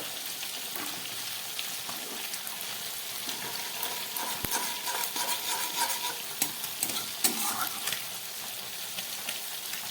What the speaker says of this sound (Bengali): দিয়ে দিচ্ছি একটু সাদা জিরে ফোড়ন